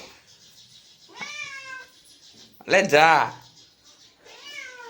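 A cat meows three times, with a drawn-out call, then a louder, longer wavering meow, then a softer one, heard close while a person speaks briefly.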